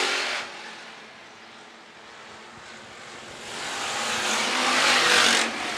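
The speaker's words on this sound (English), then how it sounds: "Clough will finally get by Kennedy on the outside" Hobby stock race cars roar around a dirt oval at Phillips County Raceway, a continuous wash of engine noise that dips and then swells as the pack passes close, with no voices over it.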